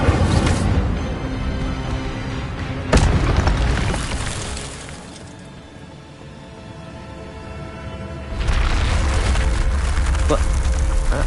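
Incendio fire spells erupt in Hogwarts Legacy combat, a sharp loud burst followed by roaring crackle that fades into a quieter lull before another heavy fiery blast returns.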